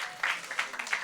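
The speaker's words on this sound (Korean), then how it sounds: "박수 한번 쳐드릴까요?" A short burst of scattered applause at a church youth group seminar, several claps patterning unevenly, moderately close with faint speech mixed in.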